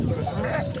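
Sheep on a highland summer pasture in Turkey, heading to water, give soft bleats amid a busy mix of livestock noise, with a voice talking over them.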